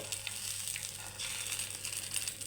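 An egg fries in a hot pan, giving a soft, steady sizzle with faint crackles. It sounds quiet and even throughout, with no talking.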